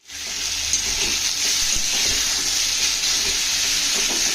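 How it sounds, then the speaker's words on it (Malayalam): Chopped tomato and onion with whole spices sizzle steadily in a hot pan, a loud, even frying hiss with faint stirring scrapes and no voices. "അത് ഒന്ന് വതങ്ങി കഴിയുമ്പോഴത്തേക്കും തക്കാളിയും പിന്നെ ആ വലിയ ഉള്ളിയും അരിഞ്ഞു വെച്ചിരിക്കുന്നതും ചേർക്കാം"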